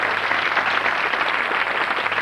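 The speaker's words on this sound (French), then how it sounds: "je propose qu'on l'accompagne avec les applaudissements de tout le public" Crowd applause at a live concert before a rock band plays, a fairly even clatter of clapping at moderate volume with no voices over it.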